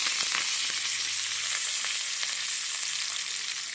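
Steady, loud sizzling of tempering frying in hot oil, with onions, fenugreek seeds and curry leaves, fills the clip, with occasional small pops and crackles and no talking.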